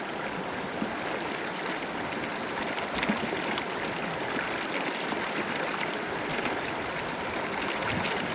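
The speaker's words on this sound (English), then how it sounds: "enjoying the sound of the river" A river on Arkansas's Eagle Rock Loop flows in a steady, even rush of water. The soft wash holds constant throughout, with no talk over it.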